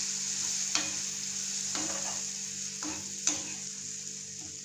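Ginger kuzhambu gravy bubbling in a pan with a steady sizzling hiss, broken by a few sharp scraping knocks as a spoon stirs it, close and without speech.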